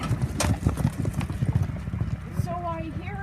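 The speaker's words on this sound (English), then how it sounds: "I'm getting my horse to back up and stand there, riding him out." Ridden horse backing up and standing, rapid hoof clip-clops on the ground close by, with someone talking over the steps and a faint whistle-like tone near the end.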